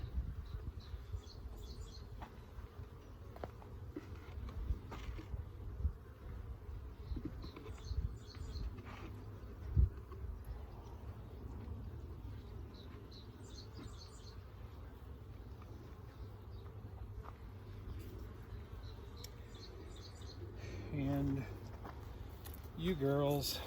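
Honey bees buzz during a hive inspection, scattered faint buzzing passes of individual bees close by, heard under someone talking quietly.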